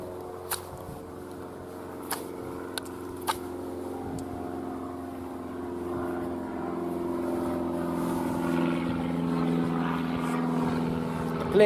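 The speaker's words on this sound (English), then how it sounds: "The plane." A propeller airplane drones overhead outdoors in the bush, a steady engine hum that swells slightly louder toward the end, with a few faint clicks early on and no clear talk.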